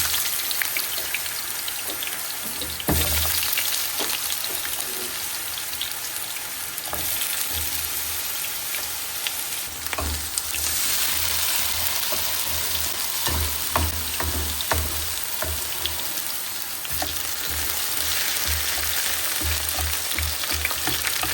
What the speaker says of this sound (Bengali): মশলা কষানো হতে হতে আমি আলুটা দিয়ে দিই।